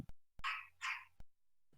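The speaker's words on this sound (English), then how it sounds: "Freaking dog. Shouldn't be barking at this hour." A dog in a video game gives two short barks at night, each a clipped burst standing out from a quiet background with brief clicks around them.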